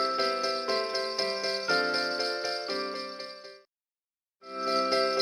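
Sleigh bells jingle in a steady, bright rhythm over ringing tonal chimes, cutting out abruptly for under a second before resuming at full loudness; no voices.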